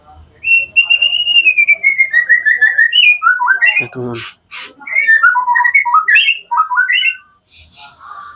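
A white-rumped shama (murai batu) sings in a cage, loud close whistled phrases sliding up and down with sharp squawky notes and a brief rattle, and a voice speaks briefly near the end.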